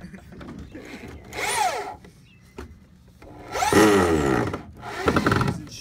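A power drill drives a screw in repeated bursts, rising and falling whirs with ratcheting as the bit slips and strips, close by with a few quiet gaps between runs.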